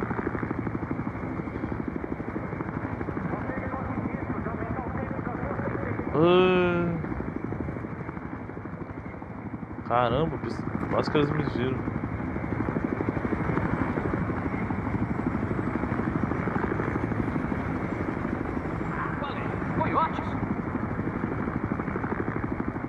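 Helicopter in the video game Battlefield Hardline, flying overhead with a steady, loud rotor thrum across the whole stretch. Someone talks briefly over it, and a few sharp game sounds break through.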